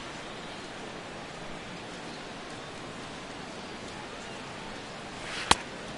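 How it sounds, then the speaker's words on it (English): Rain coming down on the stadium in a baseball video game, a steady even wash of hiss with one sharp click near the end and no voices. "the rain is really starting to come down"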